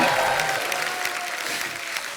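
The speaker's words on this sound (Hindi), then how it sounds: "जोरदार तालियां हो जाए बाबा" Enthusiastic clapping from a comedy-show studio audience, fairly close and steady, tapering slightly toward the end.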